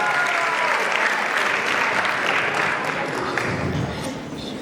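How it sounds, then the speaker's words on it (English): Audience at a school matric dance applauding the staff: dense, loud, sustained clapping from a large crowd that fades slightly at the end. "Let's give them a round of"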